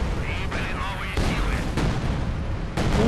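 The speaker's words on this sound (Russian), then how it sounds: "Артиллерия его уравняет" Artillery fire in Company of Heroes 2, a battle with a T-70 tank facing Panzerfausts: heavy booming blasts land one after another amid dense gunfire and rumble, with a voice speaking over the noise.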